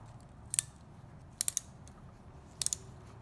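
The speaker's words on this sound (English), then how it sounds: "I'm going to take my little 90-degree ratcheting screwdriver." A small 90-degree ratcheting screwdriver backs off the cam chain tension on a Yamaha Virago 1100 engine, giving three short bursts of quick, faint ratchet clicks over a low steady hum.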